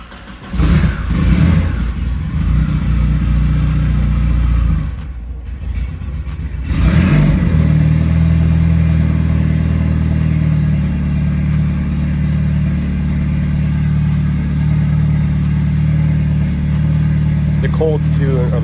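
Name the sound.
drift car engine first start with new turbo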